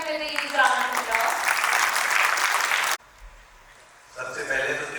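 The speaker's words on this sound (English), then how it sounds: "Please welcome him with the huge round of applause." Audience clapping to welcome a speaker at an inauguration and felicitation program, loud steady applause mixed with a voice for about three seconds, a brief quiet gap, then sound and speech returning.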